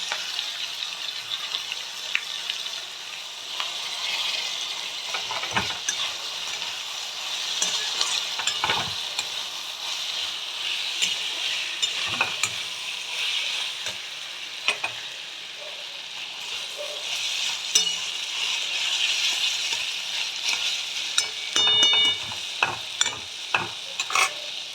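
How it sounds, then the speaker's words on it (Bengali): Tomatoes stirred into a frying pan of a Bengali fish dish, sizzling steadily throughout, with scraping spatula strokes and occasional sharper clatters near the end, close and moderately loud. "দিয়ে দেবো টমেটো"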